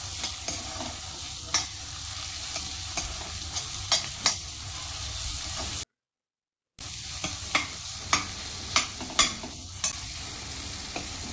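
Onion, tomato and spice paste sizzle steadily in a pan for a village-style dill and moong dal dish, with a spoon repeatedly stirring and scraping in sharp clicks, broken by a brief silence.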